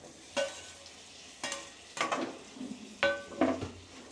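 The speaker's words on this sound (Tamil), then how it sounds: "இதை நல்லா வந்து கிளறிக்கலாம்." Spoon scrapes and clanks against a frying pan while prawns are stirred into a gravy, four or five distinct sharp knocks spaced about a second apart over a faint sizzle.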